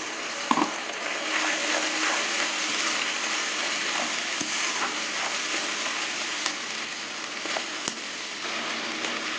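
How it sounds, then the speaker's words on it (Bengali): Fried onion with ginger, garlic and green chilli sizzles steadily in a pan, a broad continuous hiss close by with a few small clicks and pops scattered through it, no voices present. "রসুনের কাঁচা গন্ধটা চলে যাওয়া অবধি কষে নেবো"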